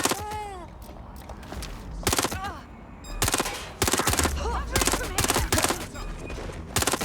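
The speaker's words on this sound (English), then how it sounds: "Shots fired." Rapid automatic gunfire from Watch Dogs Legion rings out in loud, close bursts and sustained volleys, separated by short pauses and accompanied by whistling, ricochet-like tones.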